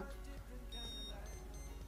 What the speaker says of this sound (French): Et là, je bip deux fois, parce que j'ai réglé sur 50